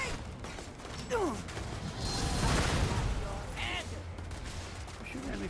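Sci-fi gunfire in Starfield rolls through a busy battle as a sustained volley of bursts and booms, with whizzing effects and voices mixed into the dense combat noise.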